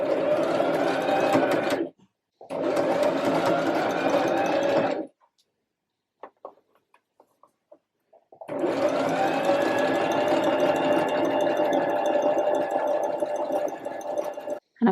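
A sewing machine stitches a jumpsuit armhole seam in three bursts of steady, close mechanical whirring, with short reverse passes. Quiet gaps with faint handling clicks separate the bursts.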